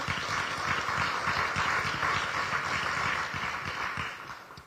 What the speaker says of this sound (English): I don't know if they're applauding the recommendation to them, or they're applauding the fact that you got hit on the head